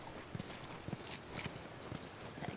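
Horse hooves clip-clopping in the video game The Last of Us, a steady, faint walking rhythm of hoofbeats over a low ambient background.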